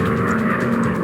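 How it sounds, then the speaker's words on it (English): Enemy bomber engines drone in a video game combat mission, a loud close propeller roar held steady and unbroken through the short moment. "Enemy bombers approaching."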